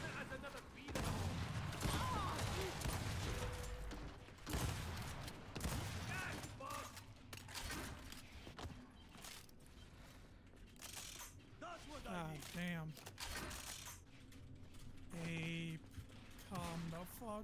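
Rapid Lancer assault rifle fire crackles through a Gears 5 ranked Control match, dense and continuous with scattered mechanical clatter and short higher-pitched effects, while a voice talks over the action.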